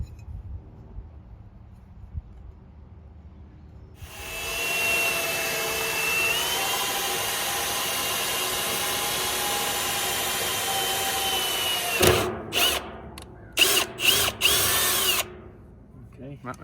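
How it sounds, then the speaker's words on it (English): A power drill with a small bit, lubricated with used motor oil, whines steadily into metal for several seconds after a quiet start, then cuts in and out in short bursts near the end. "I've accumulated a drill with a small drill bit to start out with"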